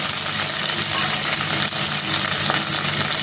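Chopped onion hits hot oil already holding a dried chili and green chilies, setting off a steady, loud, dense sizzle with stirring, close and continuous and free of talk.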